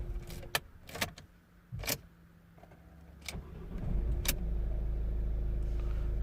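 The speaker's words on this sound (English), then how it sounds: "Let me try to cycle the ignition" A Ford Galaxy's ignition is switched off and on again, with sharp clicks and key jangles up close before a steady low hum from the car's electrics or fan settles in and holds to the end.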